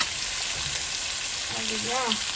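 Sambar ingredients frying in a pan give a dense, continuous sizzle heard up close, with a faint voice-like murmur toward the end.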